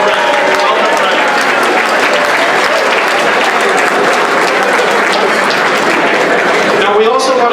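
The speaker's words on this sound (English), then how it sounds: "Big round of applause for Brendan." Applause at a St. Patrick's Day foundation dinner: a roomful of guests claps loudly and continuously for several seconds, a dense, even wash of hands with a faint voice rising at the close.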